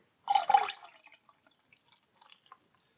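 A short burst of snakebite beer splashing and glugging into a glass, followed by a few faint drips and small fizzy pops trailing off into quiet.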